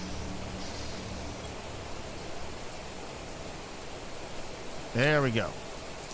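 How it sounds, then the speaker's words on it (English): A heavy downpour in the video game Planet Crafter makes a steady, dense hiss of rain that continues throughout, and someone speaks briefly near the end. "Oh yeah, heavy storm."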